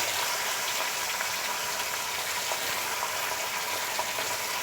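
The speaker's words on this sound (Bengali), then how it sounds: "তেলটা গরম হয়ে গেছে, এখন আমি মাছগুলি দিয়ে দিচ্ছি।" Gulaya fish frying in hot oil: a dense, even, bubbling sizzle that stays steady and fairly loud across the whole stretch, with no speech over it.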